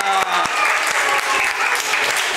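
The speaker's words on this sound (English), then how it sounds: "Clap for سجدة" A classroom of students claps for a classmate, a steady burst of applause lasting a couple of seconds with a few louder individual claps standing out.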